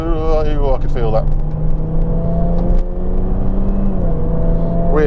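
A Jaguar F-Type with enormous rear tyres drives over patches of ice, its engine giving a steady close whir and rumble throughout, with a rising rev partway through.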